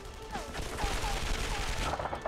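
Gunfire in a WW2 video game aimed at a sniper, a dense rattle of rapid shots with a steady crackling texture, fairly close, with a voice briefly heard over it.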